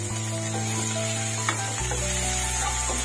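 Big cubes of tomato go into a hot pan for Bombay-style poori bhaji, bringing a steady, close hiss of sizzling over a low kitchen hum.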